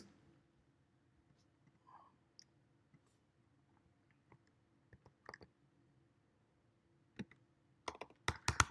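Keystrokes on a computer keyboard type out a Kafka ACL listing command, starting as faint, scattered clicks and ending in a quicker, louder burst, with no talk over them.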